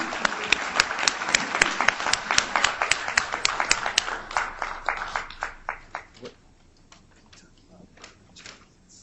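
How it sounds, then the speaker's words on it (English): Audience applause following a philosophy conference panel discussion, dense clapping that swells then thins out after about five seconds, leaving a few scattered claps trailing off in the room. "let's give everybody, including yourselves, a round of applause"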